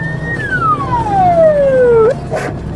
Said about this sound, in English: ignoring sirens and loudspeaker commands